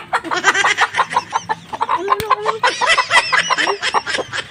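A chicken clucks repeatedly up close, busy bursts of throaty clucks and short squawks with a brief pause midway.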